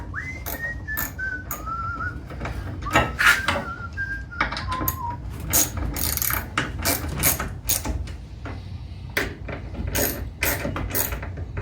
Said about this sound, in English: gonna just countersink a little bit